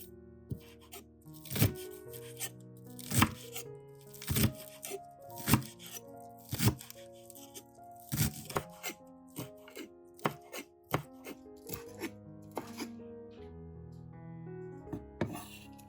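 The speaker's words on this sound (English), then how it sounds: "chop onions according to cooking needs" Green onions chopped with a knife on a board, a run of sharp close thuds in an uneven rhythm, some quick and clustered, others spaced apart, with no talking.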